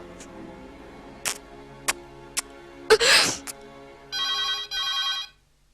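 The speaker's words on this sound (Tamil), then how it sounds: "அம்மா ஃபோன் அடிக்குது" Telephone ringing indoors in a Tamil film scene, with a few sharp clicks and a brief breathy burst before a steady electronic ring sounds in two close bursts, fairly loud and clear, with no talking.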